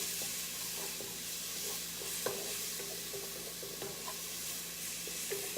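Garlic and onion sizzle quietly in a pan, a faint steady hiss with occasional soft stirring clicks and scrapes.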